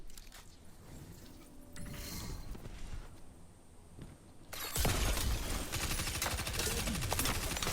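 A gun shooting crystals in the video game Destiny: creaking mechanical clatter at first, then a sudden loud, dense stream of rapid shots and shattering that runs on without pause.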